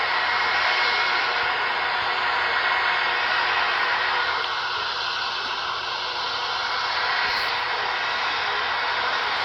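A Boeing 707 airliner's engines hiss and whine in a steady, loud wash as the plane reverses and taxis toward the runway, holding a constant drone throughout.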